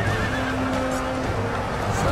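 Russian dragoon cavalry horses in the Empire: Total War battle game whinny loudly in a single long, wavering neigh over clattering hooves and battlefield rumble, close and prominent.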